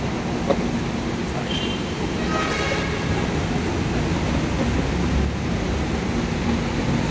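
An MRT train pulling into a northbound station platform toward Cubao: a loud, steady rail rumble and rushing roar fill the whole stretch, with a faint screech briefly rising partway through.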